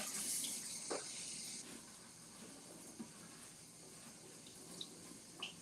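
Steady rush of running tap water as large-leaved fresh herbs with thick stems are rinsed in a sink, a constant hiss with a few faint knocks and splashes, close, with no voices.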